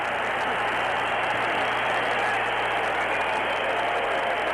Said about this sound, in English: As you can hear, ladies and gentlemen, the crowd loves this bout.